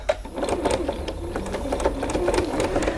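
A sewing machine fitted with a narrow walking foot sews white thread on a fabric face mask, running in a steady, continuous whir close by.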